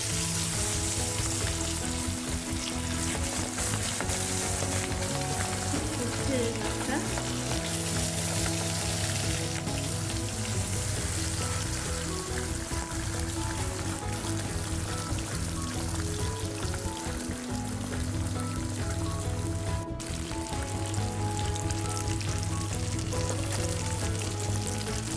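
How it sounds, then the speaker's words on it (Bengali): Papda fish fries in hot oil in a wok, giving a loud, continuous sizzle and crackle that runs unbroken for a long stretch with no voices. "মাছটা দেখুন এক পিসে খুব সুন্দর করে ভাজা হয়ে গেছে।"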